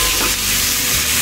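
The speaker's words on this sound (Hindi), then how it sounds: "अब हम इसमें डाल देंगे टमाटर जो हमने अच्छे से चॉप कर रखे हैं लंबे लंबे, आप इसे थोड़ा सा पकाना है।" Long-chopped tomatoes cooking in a pan, with a loud, close, continuous sizzle and a stir in a brief burst.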